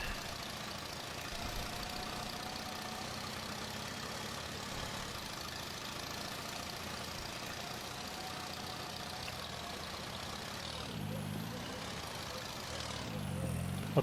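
Allis-Chalmers tractor idling in Farming Simulator 22, a low, steady engine rumble that continues evenly, with a couple of faint shifts near the end.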